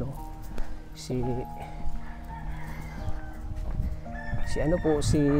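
Chickens cluck and squawk around a rural home during feeding, with several short bird calls rising over steady background noise and ongoing talk.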